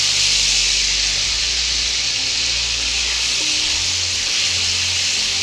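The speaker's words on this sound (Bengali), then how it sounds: "চা চামচ আমি আদা রসুন বাটা দিলাম" Ginger garlic paste sizzles in hot oil with a loud, continuous, hissing crackle that holds steady throughout, close by, with a low hum underneath and no talking.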